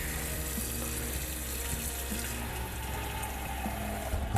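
Tap water runs steadily into a home kitchen pot, drawn to make polenta, a continuous close hiss and splash with no voices.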